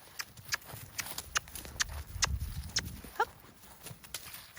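A horse named Cha-Cha is lunged, his hooves striking ground in a steady run of sharp clip-clop beats with a low rumble of movement, and a brief spoken exclamation cuts in.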